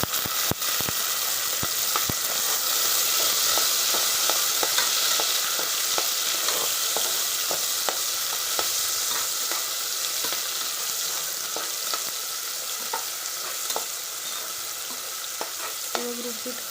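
Tomatoes hit a little hot oil with curry leaves, giving a steady, close sizzle and crackle with sharp pops scattered throughout, stirring at times, no one talking.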